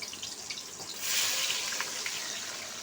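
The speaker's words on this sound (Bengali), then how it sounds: "এর মধ্যে পেঁয়াজ, 4টে মিডিয়াম সাইজের পেঁয়াজ কেটে রেখে এর মধ্যে দিয়ে দিচ্ছি।" Sliced medium onions dropped into hot oil in a wok for a spicy fish curry, a sudden bright hiss of frying that jumps up about a second in and carries on steadily, close and moderately loud.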